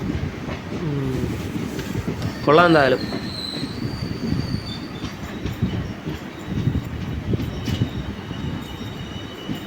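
A goods train rumbles past on the line beside a waiting Karaikal Express, with dense low clatter running throughout and a brief high wheel squeal in the middle. A voice speaks over it.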